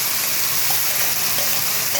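Ground pointed gourd paste dropped into hot oil with a dried red chilli, giving a loud, steady, close hiss of frying with faint stirring and no talking.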